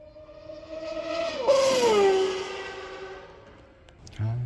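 A car engine swells in a high, rising rev, peaks loudly, then fades away, followed by a brief clunk.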